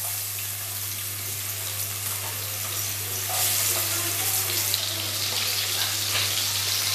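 Chopped onion frying in a little oil in a kadai gives a steady, soft sizzle, growing slightly louder partway through, over a constant low electrical hum.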